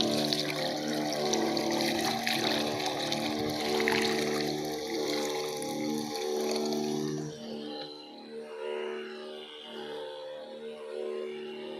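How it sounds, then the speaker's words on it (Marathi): Pesticide-laced water is poured into a sugarcane drip irrigation setup, a close trickling and splashing pour over a steady tonal hum, easing off partway through. "औषधाचं पाणी ओतलं बरोबर कार्यक्रम असा ठिबकद्वारे उचला जात आहे बघा"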